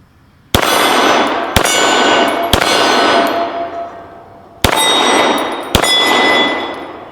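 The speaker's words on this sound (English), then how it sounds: "Let's take a couple more shots with this thing." Competition pistol rounds striking steel targets: five loud, sharp metallic clangs at irregular intervals, each ringing out with a long bright decay, close by and with no talk.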